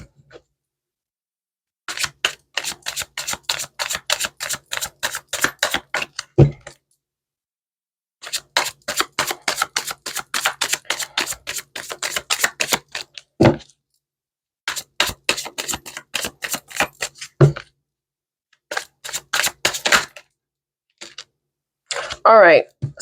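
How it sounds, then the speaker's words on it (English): Tarot cards are shuffled in repeated riffled bursts of rapid crisp flicks, separated by brief pauses, close and fairly loud with no talk. "I'm going to do some more shuffling"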